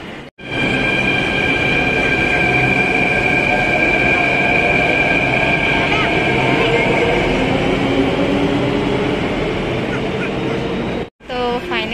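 Delhi Metro train running, a steady loud rumble of wheels and motors with a sustained high whine, ending briefly near the end before resuming.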